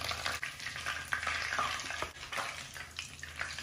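Briwat, Moroccan pastry wraps, frying in hot oil, a steady dense sizzle and crackle running throughout at close range, with no talking.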